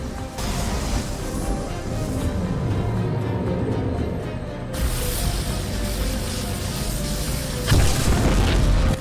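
A pylon is destroyed in the StarCraft video game, a deep rumbling explosion with crashing debris that builds loudly and holds, swelling again near the end.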